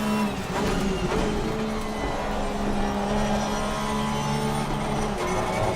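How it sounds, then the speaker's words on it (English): A race car engine in the Assetto Corsa Competizione racing game roars loudly and continuously from up close, holding a high, sustained drone on track. "The engine sounds incredible."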